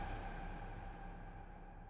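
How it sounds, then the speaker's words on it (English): Gated reverb on a synth or pad in a music production, a dense sustained wash of sound holding steady and loud alone for two seconds without fading, with no voices. "I want this reverb to cut out. I want it to be gated."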